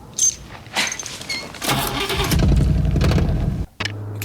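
A car engine cranks and fires after a few clicks and rustles, then settles into a loud, close, rough running roar that cuts off abruptly and resumes as a lower steady idle.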